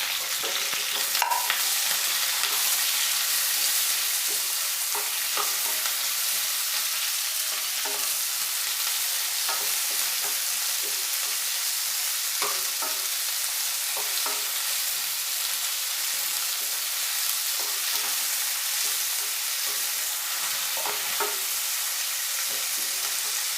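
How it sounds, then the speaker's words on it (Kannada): Two chopped onions fry in a pan for a bitter gourd and potato dry roast, giving a steady, loud hiss and sizzle with scattered stirring clicks and scrapes, without any talking. "ಈಗ ನಾನು ಈರುಳ್ಳಿ ಕಟ್ ಮಾಡಿರೋದು 2 ಈರುಳ್ಳಿನ ಹಾಕ್ತಾಯಿದ್ದೀನಿ."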